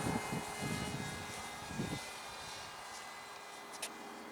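Depron radio-controlled F-100 Super Sabre propjet model plane flying, a faint, steady distant engine drone held through the whole moment.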